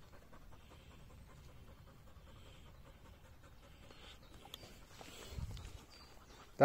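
Steady, quiet rhythmic panting from a Polish Hound after a bike run, close by, continuing for several seconds before a brief louder rustle and sharp noise at the end.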